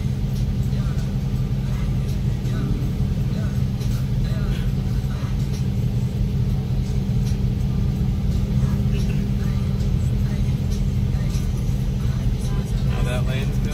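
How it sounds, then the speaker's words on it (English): Dodge muscle cars roll out single file at a mountain car meet, a steady, loud low engine rumble lasting throughout, with voices talking underneath. "All right, everybody's rolling out, single file."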